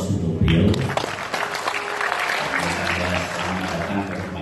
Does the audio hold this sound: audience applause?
yes